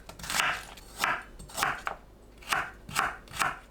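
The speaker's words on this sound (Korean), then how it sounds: "쪽파는 4cm 길이로 썰어줍니다" A knife chops through green onions on a cutting board, cutting them into 4 cm lengths. Six crisp, broadband strokes fall in an uneven rhythm, close and clear, with no voices.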